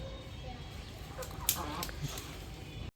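Hens guarding their eggs cluck and squawk a few times against a quiet background, with one sharper call standing out midway.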